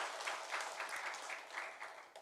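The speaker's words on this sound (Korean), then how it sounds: "우리 하나님께 영광의 박수 올려드리겠습니다." Applause from a church congregation during a Sunday worship service, bursts of clapping rising and falling in loose waves, fairly close and moderately loud.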